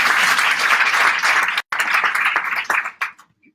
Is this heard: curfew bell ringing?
no